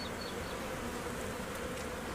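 Honeybees drone in a dense, constant buzz right at the hive during an inspection, steady and close with no pauses or voices.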